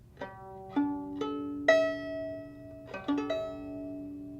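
Freshly tuned violin strings plucked or bowed one at a time, a handful of clear ringing open-string notes with pauses between them.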